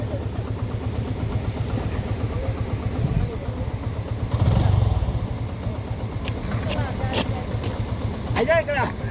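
A motorcycle idles close by with a steady low throbbing engine pulse. It swells briefly midway, and voices talk over it.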